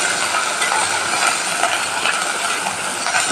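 Potol and lentil curry being sautéed in oil in a pan, a steady, loud, continuous sizzle with faint stirring scrapes, close and without talk.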